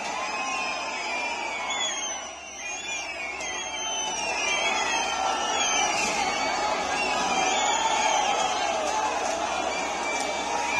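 A large crowd of protesters at the Shimla mosque site after breaking through barricades, a dense roar of many shouting voices with whoops and cries rising and falling, steady and close throughout.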